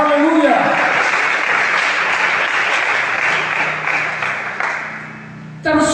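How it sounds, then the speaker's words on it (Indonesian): A church congregation applauding during worship, loud sustained clapping from a large crowd that fills nearly the whole stretch before cutting off abruptly near the end. "mari kita tepuk tangan untuk Tuhan Yesus"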